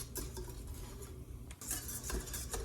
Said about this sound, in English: I'm just kind of stirring it with my little whisk